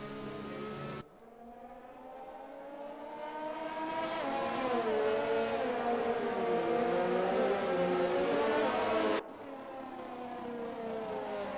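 In the F1 esports racing game, race cars at the Australian Grand Prix drone and whine steadily behind a safety car, with the engine pitch slowly rising and falling, loud and continuous.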